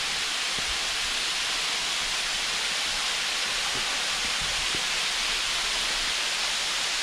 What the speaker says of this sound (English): But it is a beautiful little cascading waterfall.